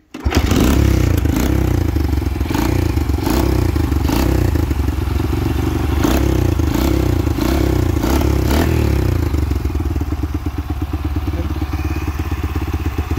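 Honda XL185 S motorcycle fitted with a Discover 150cc engine idles loudly close by, a steady thumping beat with rattling mechanical clatter throughout and no talking.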